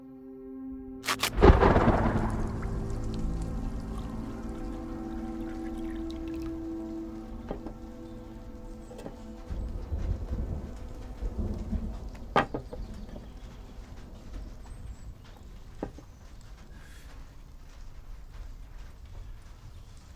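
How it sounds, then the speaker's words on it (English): A thunderstorm in a film scene opens with a sharp, loud thunderclap that rumbles away, followed by a steady wash of rain and occasional softer cracks across the background. "Storm's coming."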